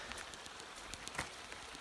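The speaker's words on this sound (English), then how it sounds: "Walking in the rain" Rain patters steadily during a hillside walk in Sunart, a soft, continuous hiss of drops with scattered sharper taps close by, no voices over it.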